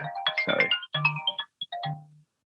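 A mobile phone ringtone plays a bright melodic tune of short tonal notes with brief pauses between phrases, clear and close in an otherwise silent room.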